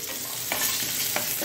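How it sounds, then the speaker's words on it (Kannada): Stone tempering sizzles in hot oil for a Mangalorean cucumber and sprouted green gram sambar, a steady close frying hiss with two brief louder crackling flares. "ಇಲ್ಲಿ ಇದು ಒಗ್ಗರಣೆ ರೆಡಿ ಆಗ್ತಾ ಉಂಟು, ಕಲ್ಲಿನ ಒಗ್ಗರಣೆ"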